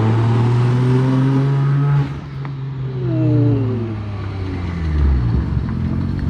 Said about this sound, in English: It's got kind of a weird exhaust note for a 1J, but it's kind of a ghetto straight pipe